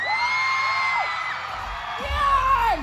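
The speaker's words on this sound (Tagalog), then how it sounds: "Bago natin sila mapanood, parinig muna ang sigaw!" A crowd at a P-pop concert event screams and cheers in long, sustained high yells that fill the space, rising again toward the end.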